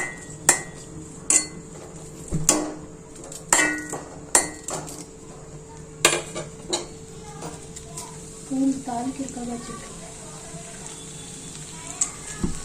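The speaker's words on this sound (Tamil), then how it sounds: "இப்போ நம்ம கடாயில் ஒரு தக்காளி, ஒரு வெங்காயம், சும்மா அரை கடா சும்மா கொஞ்சம் வதக்கிக்கலாம்" Tomato and onion sautéing in a kadai for a capsicum side dish, a low sizzle under repeated sharp metallic clanks of a spatula striking the pan, with a voice talking over it.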